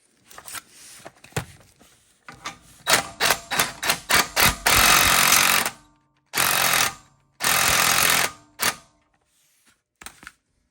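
An impact gun drives bolts on a Fox 2.0 IFP steering stabilizer on a Jeep Gladiator Mojave. It gives short rattling bursts, then several longer loud hammering runs with pauses between them.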